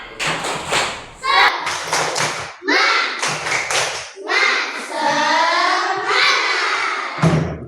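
Children in an Islamic religious education class chant an Indonesian 'tepuk semangat' clapping chant in rhythm, bursts of hand claps and thumps punctuating the singing voices in a lively, patterned beat.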